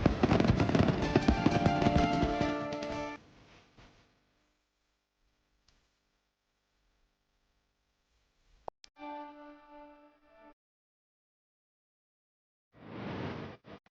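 Fireworks at Porto's Saint John festival: a burst of loud, dense crackling and booming up front, then quiet with a sharp pop and a short tonal crackle midway, and another muffled burst at the end.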